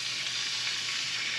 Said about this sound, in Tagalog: Lutuin ko muna yung luya ng konti bago bawang.